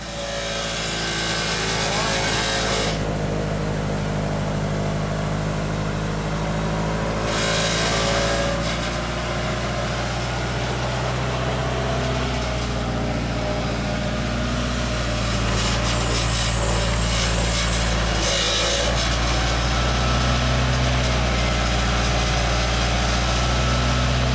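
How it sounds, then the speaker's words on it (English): A Genie lift's engine runs continuously during a test drive, a loud, steady mechanical drone with a low hum and scraping or rubbing noises over it, with voices now and then. "The owner's test driving the Genie."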